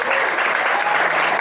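Steady, loud applause from an audience at a school motivation event for junior high students in Bogor, dense clapping filling the whole moment without pause.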